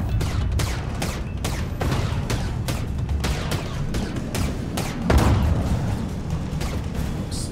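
Weapon shots in the VR space combat game Starway Fleet, a steady run of evenly spaced heavy blasts with booming low rumble, loud and continuous, no talk over them.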